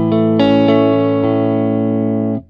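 A clean, dry electric guitar through a BOSS MS-3 multi-effects switcher with no effects on strums a few sustained chords, loud and close, ringing steadily before cutting off at the end.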